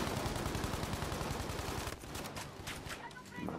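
Gunfire in Battlefield V, heard as dense rapid automatic bursts that run loud for about two seconds, then give way to sparser shots and ambient game noise.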